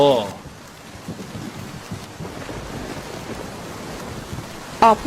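A cartoon thunderstorm with steady rain hissing throughout and low rumbling thunder beneath, over a riverbank scene, with brief bright tonal accents at the start and near the end.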